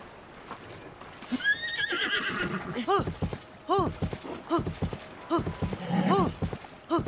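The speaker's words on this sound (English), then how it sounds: "Why for are you running, giant horse?" A horse in the video game Zelda: Tears of the Kingdom gives several loud, close whinnies in quick bursts, mixed with clip-clopping hooves and a short shattering noise early on.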